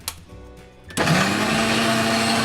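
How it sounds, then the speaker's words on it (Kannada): A kitchen mixer grinder jar full of banana, curd and sugar whirs on abruptly after a quiet moment, then holds a loud, steady high-pitched motor drone as it blends. "ಬಾಳೆಹಣ್ಣು, ಮೊಸರು, ಸಕ್ಕರೆ, ಇದು ಮೂರನ್ನು ಒಂದು ಮಿಕ್ಸಿ ಜಾರಿಗೆ ಹಾಕಿ ಅದನ್ನು ಗ್ರೈಂಡ್ ಮಾಡಬೇಕು"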